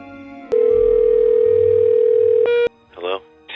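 A telephone dial tone hums loudly and steadily for about two seconds, then cuts off before a call is placed, followed by brief electronic ringing tones, all close and clear on the line.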